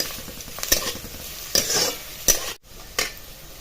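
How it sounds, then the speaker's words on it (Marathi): Onions for bazaar amti fried to a red-brown are turned in a pan with a spatula, giving a few sharp scraping knocks over a soft sizzle, with a brief gap before one last stroke. "चांगला लाल होईस तर परतायचा आहे"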